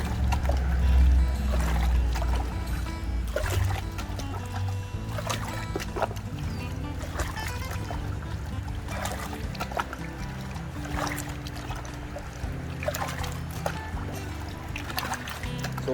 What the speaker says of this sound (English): I think we may have to add a little extra water in here.